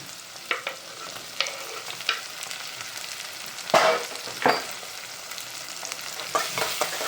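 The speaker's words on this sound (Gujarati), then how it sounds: "હવે નાખી દઈએ ટમેટા. કટકણ થાય છે, નાખી દઈએ હવે ટમેટા" Tomatoes tossed into frying onions for a dry fish curry, with a low steady crackle and sizzle, broken by several sharp spoon scrapes and knocks against the pan, a louder cluster near the middle.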